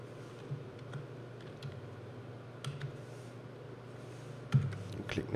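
Someone typing a name on a computer keyboard: sparse, quiet clicks of single keys over a low hum, with a louder tap near the end.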